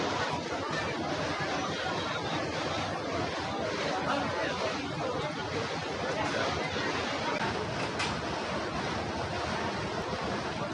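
Gas and water gush steadily from a newly drilled borewell at a house in Jorpati, Kathmandu, giving a loud, continuous broadband roar with no pauses.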